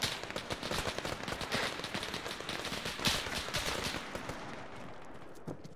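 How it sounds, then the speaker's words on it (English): Sustained rapid gunfire in ARMA 3, dense bursts from several weapons crackling continuously for the whole stretch, loud and close with a slight tail-off near the end. "The hell is shooting at me?"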